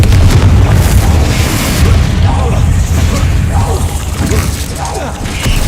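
A Confringo spell in Hogwarts Legacy lets off booming, crackling blasts mixed with mechanical clatter, loud and sustained, with some voices under the din.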